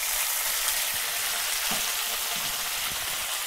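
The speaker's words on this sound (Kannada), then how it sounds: "ಟೊಮೊಟೊ ಚೆನ್ನಾಗಿ ಸ್ಮೂತಾಗೋವರೆಗೂ ಫ್ರೈ ಮಾಡ್ಕೋಬೇಕು" Onions and tomatoes frying in oil in a pan for a village-style fish curry, a steady dense sizzle throughout with a few faint stirring knocks, close and even, no voices.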